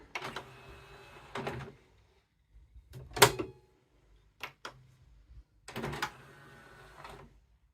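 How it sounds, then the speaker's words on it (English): The motorized CD drawer of a Cobra boombox slides open and shut, a series of spaced mechanical clicks and whirring bursts with a sharp snap near the middle, close and fairly quiet. "Open the CD drawer, close it"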